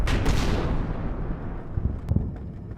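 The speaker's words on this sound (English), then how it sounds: "the men come under heavy fire from the forest in the background" Heavy gunfire from a forest in the wargame Combat Mission, a dense rolling barrage of booming shots and blasts. It fades somewhat after the opening, then a few sharper cracks come near the end.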